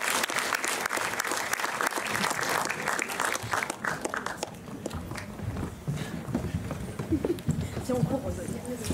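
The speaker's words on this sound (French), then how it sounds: "que je vous demande d'applaudir" Audience at a film festival closing ceremony claps steadily for several seconds, the applause thinning into scattered claps while a voice speaks over it.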